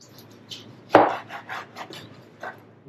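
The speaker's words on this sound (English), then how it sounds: "That's chopping nicely." Knife chopping smoked beef brisket on a board: about half a dozen soft, moist cuts, one sharper, louder chop among them, close and fairly quiet with no talk.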